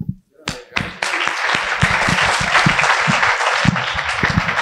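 Long, dense applause from an assembly audience fills the room, starting after a few scattered claps and holding steady and loud to the end.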